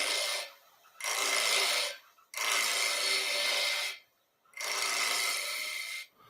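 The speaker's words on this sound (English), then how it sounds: "And then we'll just rough out the rest of it with this bowl gouge." Bowl gouge roughing out a spindle of wood on a lathe: three long, loud broadband cutting passes of about a second and a half each, separated by short pauses, with no voices.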